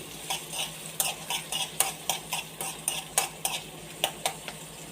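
Garlic, ginger and green chili being stirred in a pan for an Alappuzha prawn roast, with rhythmic metal spoon scrapes and clinks against the pan over a soft sizzle, close, with no talk.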